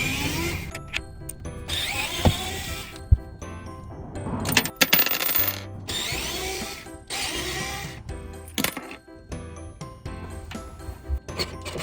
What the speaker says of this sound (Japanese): 小型の電動ドライバーでは回すことができませんでした。